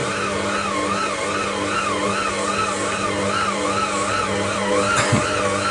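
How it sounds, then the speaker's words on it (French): An electric stand mixer kneads thick pizza dough with a loud, continuous motor whine that wavers rhythmically up and down as the dough loads the beater, heard close and steady. "On va accélérer un peu la cadence. Un petit peu. Débloquer mon batteur."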